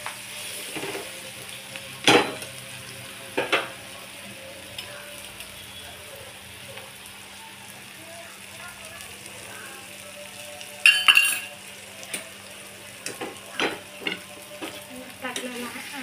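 Eggs for egg bhurji fry in oil in a pan, a quiet steady sizzle broken by sharp clinks and scrapes of a utensil stirring and mixing them, close and intermittent.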